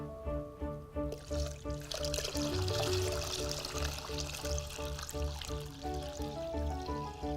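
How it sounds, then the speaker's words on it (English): Water poured steadily into a glass over ice, trickling and splashing up close over a soft background of steady music. "Add the water."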